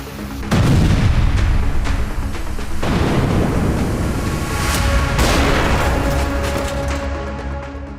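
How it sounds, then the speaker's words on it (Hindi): Grad rocket launcher artillery fires in war footage from near Kharkiv, producing loud booming blasts and rumbling detonations that repeat across several seconds amid a continuous roaring background. "खार्किव में रूसी सेना ने ग्रैड रॉकेट लॉन्चर से यूक्रेनी पोजीशन को खत्म कर दिया"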